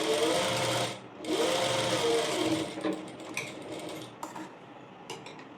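Sewing machine stitching a saree fall, a steady loud mechanical whir that breaks off briefly near the start, then runs on and fades into lighter clicks and taps as it stops.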